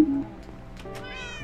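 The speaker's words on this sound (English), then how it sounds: "Your cats are meowing." Cats meow in the Minecraft video game, a few short game-sound meows rising over a faint steady background hum, fairly close and clear with no talking.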